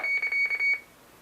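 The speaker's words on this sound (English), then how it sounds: "what you heard was a squelch burst on 5/8 containing a" A two-way radio squelch burst carrying a 5-digit sync code and call sign on 5/8: a short run of rapid beeping data tones over a steady whine, cutting off after under a second into faint hiss.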